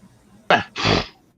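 A person sneezes indoors in a shop, a sharp two-part burst with a quick intake followed by a louder, longer expulsion, heard close and alone.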